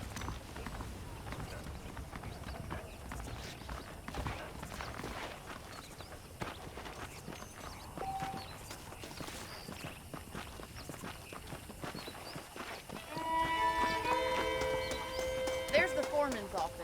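Horse hooves clip-clopping in the Western video game Red Dead Redemption, a soft steady walking rhythm under the game's ambience, with music swelling in near the end and a character's voice speaking over it.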